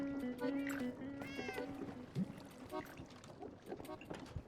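Cats meow several times in the Minecraft game world, small harmonic cries scattered over a busy backdrop of game sounds, with a voice talking briefly.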